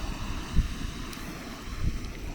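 Strong, freezing wind buffets an outdoor cooking spot where eggs fry on a Jetboil Summit ceramic 8-inch skillet, producing a low, rumbling gusty roar with two brief heavier thumps against the microphone.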